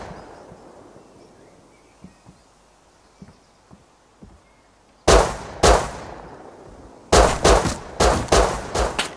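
Gunfire crackles in a video game firefight: faint distant pops at first, then two loud close shots and a rapid burst of several more, with no speech.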